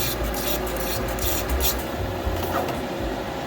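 A new Bucasso airbrush blasts plain water through its nozzle during cleaning, a close, steady hissing spray with brief sputtering bursts.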